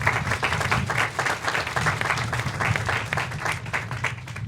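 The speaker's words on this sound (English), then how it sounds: "So give yourselves a round of applause, please" A room of nurses at a hospital nursing excellence awards event breaks into strong, continuous applause, many hands clapping close and loud for the whole stretch with no talk over it.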